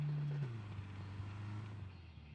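A car drives in a battle royale video game with a steady low engine drone that drops in pitch early on and then holds fairly close, with no voices.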